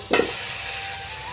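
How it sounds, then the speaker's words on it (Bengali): Meat and fried potatoes drop into a hot, spiced pot, giving a short burst of sizzle that settles into a steady, fairly quiet hiss of frying. "সবটা ভালোভাবে মিশিয়ে নেওয়ার পরে এর মধ্যে দিয়ে দিচ্ছি মাংস ও আলু ভাজাটা"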